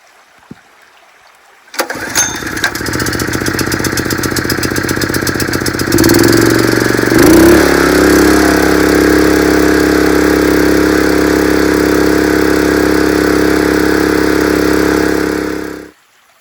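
A water pump's small engine starts with a sharp pull, then runs loud and steady before surging and wavering as it loses prime, cutting out near the end.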